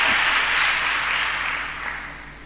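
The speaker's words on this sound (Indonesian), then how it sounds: "Tepuk tangan, saudaraku." Applause from a church congregation during an Indonesian sermon, a dense steady wash of clapping that holds loud throughout and fades slightly toward the end, with no talking over it.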